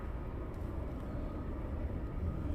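Jet aircraft taxiing at East Midlands Airport at night, a steady low rumble that holds at an even level throughout, distant and continuous with no voices.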